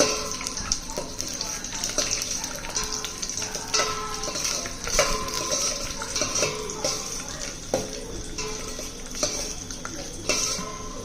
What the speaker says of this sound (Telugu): నెయ్యి మరిగింది ఇప్పుడు జీడిపప్పు వేపుకోవాలండి